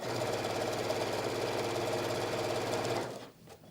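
A sewing machine stitches a fabric panel in one continuous, close, steady run of rapid needle strokes, then winds down and stops near the end, with no talking.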